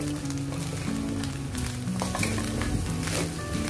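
Shredded chicken being stirred with black pepper powder and salt in a pan for chicken samosa filling, a steady sizzle with soft scraping stirs throughout, fairly quiet and close, no talking.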